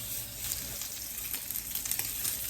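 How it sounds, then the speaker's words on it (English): Ground pork sizzling in a hot pan for fried rice, a steady close hiss of frying with faint stirring crackles throughout. "Okay, cook the pork."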